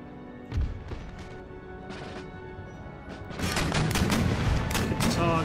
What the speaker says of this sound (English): the volleys are more worthwhile than a bit of friendly fire